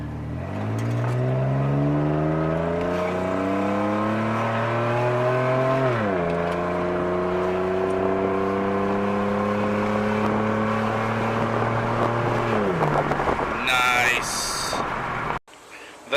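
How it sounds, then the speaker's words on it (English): A Mercury Cougar with its muffler deleted and a straight-pipe exhaust pulls hard on a test drive, its loud, raspy engine note climbing through two gear shifts before dropping away near the end. "Now my favorite part of the whole muffler delete,"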